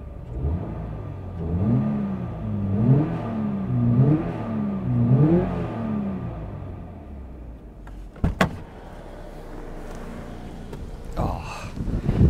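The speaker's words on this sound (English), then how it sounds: "let's have a little listen to how the engine revs. because a boxer engine sounds quite different to an inline four, an inline six, or even a V6." Toyota GR86 manual with a boxer engine, revved repeatedly while parked, heard from inside the cabin: four rising-and-falling rev sweeps in a row, followed by a couple of sharp clicks and cabin noises.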